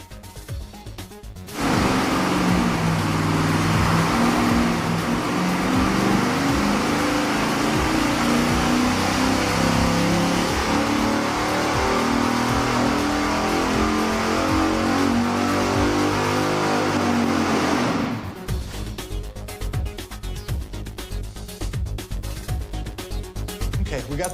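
A car engine with shorty exhaust headers runs hard on a dyno, starting with a short idle, then a loud sustained rising wide-open-throttle pull that cuts off abruptly into a rough, lumpy idle.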